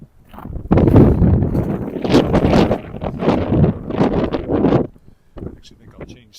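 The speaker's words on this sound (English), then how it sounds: "I'll change sides to maybe avoid some of the worst of the wind on that corner." Strong wind buffeting the microphone on a snowy downtown street corner in Regina in February, a loud continuous rumbling roar that swells and eases before dropping away near the end.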